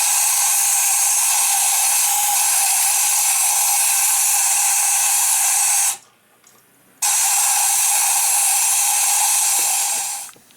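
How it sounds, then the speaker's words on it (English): A small oilless air compressor runs with a loud, steady broadband hiss, cuts out for about a second around the middle, then resumes and holds steady before trailing off at the end. "this is just a little one of them oilless compressors, so anything you got can do this job"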